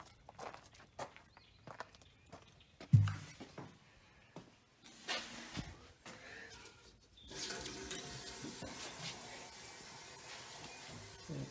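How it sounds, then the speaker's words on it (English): Water runs into a toilet in a house's north bathroom, a soft hiss that starts faintly, is broken by a few thumps and footsteps, then swells into a steady louder rushing flow. "Let's go ahead and turn the toilet on in the north bathroom."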